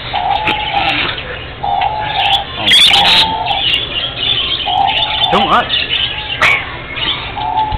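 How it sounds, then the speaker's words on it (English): Pigeons or doves coo in repeated low phrases inside a PetSmart pet store in Miami, with chirps scattered between, close and clear beneath people talking and exclaiming. "So we're looking at birds and shit."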